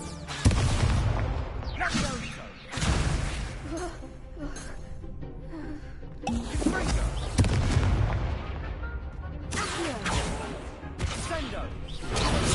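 Blasting spell explosions from Expulso in the video game Hogwarts Legacy, several loud booming bursts at intervals with crackling debris, mixed with game noise and a voice talking over the action.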